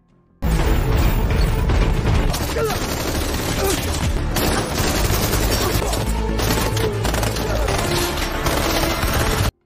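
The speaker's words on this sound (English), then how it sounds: "After rescuing Maria, they then proceeded to shoot with the enemy troops in the tunnel." Sustained gunfire from a firefight inside a tunnel, bursts and volleys overlapping almost continuously, loud and dense from start to finish with a booming, reverberant wash.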